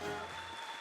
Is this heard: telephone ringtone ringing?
no